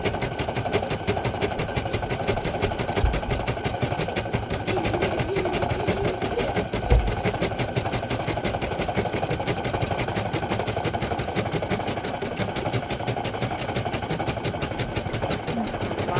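A Brother PE800 embroidery machine stitches an outline on a sweatshirt, its needle producing a steady, fast mechanical whir that runs close and even throughout, with a couple of brief low thumps.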